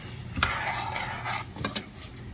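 Rice and garlic toast in a pan and are stirred, giving a close, steady sizzle with a few sharp scrapes and clinks from the utensil. No voices are heard.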